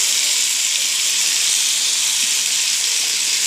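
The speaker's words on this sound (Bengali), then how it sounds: "ভাজা হয়ে গেছে, পেস্টটা ঢেলে দিচ্ছি।" Spice paste with black cumin hitting hot oil gives a loud, steady hiss and sizzle that fills the whole stretch without a break, close up and with no talk.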